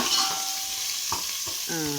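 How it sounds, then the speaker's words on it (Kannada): Curry leaves fry in a hot pan until reddish while cooking black-eyed pea (alasande) saaru, giving a steady sizzle with a few soft stirring scrapes and a brief metallic clink. "ಕರಿಬೇವು ಕೂಡ ಹಾಕ್ಕೊಂಡು ಸ್ವಲ್ಪ ಕೆಂಪಾಗೋದು ಹುರ್ಕೊಳ್ಳೋವರೆಗೂ ಹುರ್ಕೊಳ್ಳೋಣ"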